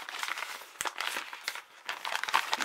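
A plastic bag is handled and crinkled up close while unpacking an Elvesbox Premium Aurora Snow Valley box, giving a continuous rustle with sharp crackles and brief louder crunches.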